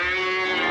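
A cow gives a short, loud, close moo, a steady tonal bellow that fills the whole brief moment with no voices over it.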